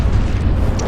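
A torpedo explosion strikes a ship in a naval combat game, heard as a loud, continuous low rumbling boom lasting under a second, with no voices present.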